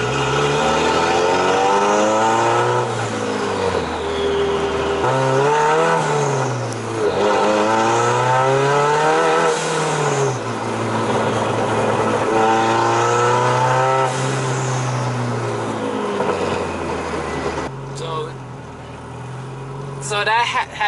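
Honda car with a faulty OBD1 ECU accelerating on the road, its engine revving up through repeated gear pulls in loud rising and falling sweeps, close and dominant, before easing off near the end.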